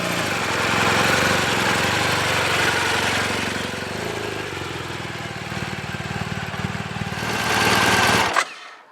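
A motorbike engine runs steadily and close up as the rider pulls away, a continuous loud rumble that swells again near the end before cutting off abruptly.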